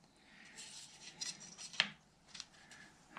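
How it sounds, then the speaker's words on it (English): Tape being pulled and pressed across a guitar fretboard at the nut line while gluing the fretboard onto an OM neck, heard as soft close rustling, rubbing and a sharp tearing crackle, fairly quiet with no talk. "I'm putting a piece of tape across right here at the nut line"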